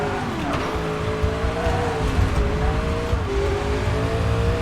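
A race car in TOCA Race Driver 3 runs downhill at Phillip Island under trail braking, its engine note sliding down and back up in steady loud drones with a touch of tire scrub, close and continuous.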